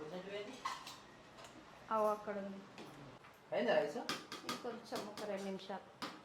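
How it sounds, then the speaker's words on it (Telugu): Steel pots and dishes clink and clatter now and then in a village kitchen while rice cooks, sharp bright knocks scattered under people talking. "ఒక్క నిమిషం గిన్నెల సౌండ్ వస్తుంది."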